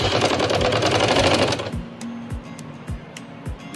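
A sewing machine stitches an umbrella frock in one dense continuous burst of rapid stitching. Several short separate clicks and thumps follow, nearby and fairly quiet.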